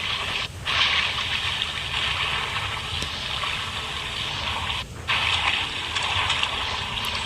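Steady rushing and splashing water from the side-scrolling game Limbo, a continuous wash of broadband noise with two brief dips, fairly close and loud, with no talking.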